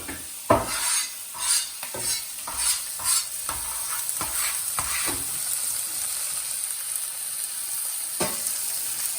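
Onions fry in a pan while a utensil stirs them, making a run of rhythmic scraping strokes over a continuous close sizzle, with the stirring dying away and one last scrape near the end.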